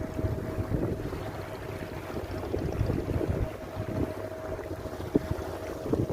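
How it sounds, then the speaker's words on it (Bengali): Sea waves roar at Cox's Bazar beach in a low, continuous rumble, with wind buffeting the microphone and no voices. "কক্সবাজার সি বিচ দেখুন, দেখুন কত সুন্দর মনোমুগ্ধকর পানির গর্জন শুনতে থাকুন।"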